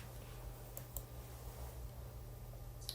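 Computer keyboard keys typed in a few light, scattered clicks over a steady low hum, close by and fairly quiet.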